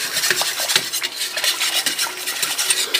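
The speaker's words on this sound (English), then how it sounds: "I'm gonna go ahead and whisk that together." Flour is whisked into milk for a cheese sauce, a quick rhythmic scraping and tapping of a whisk against a pan, close and clear with no talking.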